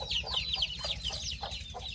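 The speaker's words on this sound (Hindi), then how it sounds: "ये चीनी मुर्गी है ना" Chickens and roosters at a farm shed cluck steadily and overlap one another, close to the listener, over a low constant rumble. Nobody speaks.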